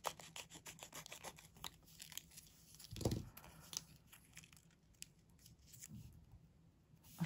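Scissors snipping through an autumn-themed paper die-cut: faint, close crisp cuts and paper rustling, with one louder snip in the middle and a few softer ones around it, in a quiet room without talk.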